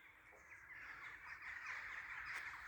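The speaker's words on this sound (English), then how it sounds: "we still have plenty of bird life down here." Many crows caw together in a dense, continuous chorus from birds in their thousands, heard from a moderate distance with no speech.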